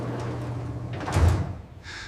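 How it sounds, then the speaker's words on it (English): A door swinging open in a dark hotel corridor: one brief scraping swell with a dull low thump, rising out of a steady low hum and fading into a soft airy hiss, with no voices. "At the far end, one door stood slightly open."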